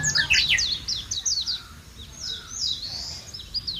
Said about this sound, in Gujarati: જો ચકલા કેટલા મસ્ત બોલે સાઉન્ડ સંભળાય